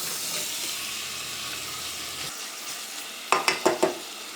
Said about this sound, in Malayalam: ഇതെല്ലാം കൂടിയിട്ട് നന്നായിട്ടൊന്ന് മിക്സ് ചെയ്യുക.